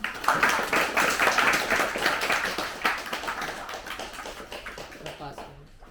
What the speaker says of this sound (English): Can we have huge round of applause for